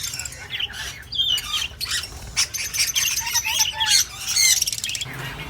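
A breeder pair of green ringneck parakeets calls in a run of sharp, bright chirps and squawks, fairly close and steady over low background noise.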